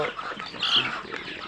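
Egyptian Fayoumi layer hens and chicks on a farm give a short burst of clucking and calling, steady and fairly close, with a brief louder cry in the middle.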